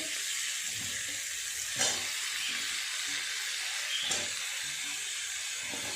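Ridge gourd, pointed gourd, potato and tomato fry in hot oil with a steady, hissing sizzle, broken by a couple of brief clinks from stirring.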